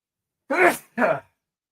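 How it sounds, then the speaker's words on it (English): A single person sneezes in two bursts, a sharp breathy first burst then a second shorter one, close and fairly loud with silence around them. "Oh, here comes the sneeze."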